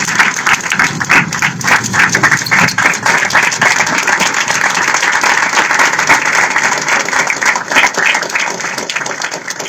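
Sustained, loud applause from an audience giving a standing ovation to a Shaurya Chakra awardee at a Kargil Diwas event, dense clapping rolling steadily for about ten seconds with faint crowd murmur beneath.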